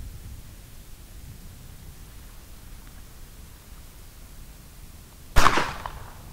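A quiet stretch ends in a single loud gunshot from the smoothbore barrel of a Sever combination gun, a sharp crack with a brief trailing decay, fired outdoors.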